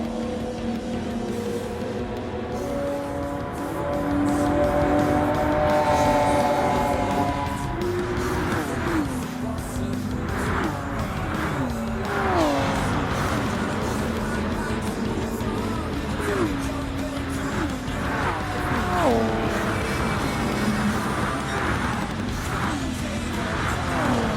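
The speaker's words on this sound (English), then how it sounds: "In this one I'm doing a Mitsubishi GTO Twin Turbo 1991." A 1991 Mitsubishi GTO Twin Turbo driven in a racing game, its engine revving steadily and climbing and dropping with repeated gear shifts, loud and continuous throughout.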